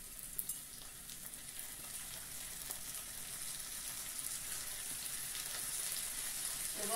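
Washed white rice dropped into a pot of frying onion, giving a steady, close sizzle and hiss that builds gradually over several seconds, with no talk.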